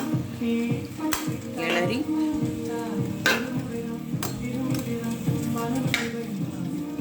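Cauliflower fry with chilli powder and sambar powder is stirred in a pan: a steady sizzle with repeated scraping strokes and sharp utensil clinks against the pan, close and fairly loud.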